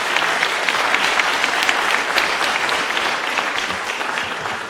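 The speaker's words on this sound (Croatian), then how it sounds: "Još jedan aplauz, lijepo molim sve." An audience at a journalism award ceremony in Zagreb applauding, dense sustained clapping from a large crowd, loud and even, slowly tapering toward the end with no talk over it.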